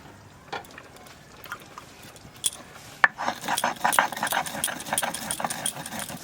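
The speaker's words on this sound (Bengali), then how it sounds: "মাছের ঝোলের জন্য কটা কাঁচা জিরে বেটে নেবো" Raw cumin seeds being ground on a stone for a fish curry make quiet scrapes at first. These build into a busy, rhythmic grinding with sharp gritty clicks, close and continuous.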